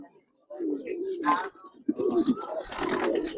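Young Giribaz pigeons, a male and female pair at a pigeon seller's in Narayanganj, coo in low throaty phrases near the microphone, mixed with background voices.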